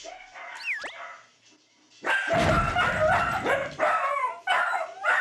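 Three dachshunds barking in a home, a brief whine first, then a loud close burst of overlapping sharp barks and yips that continues with short pauses.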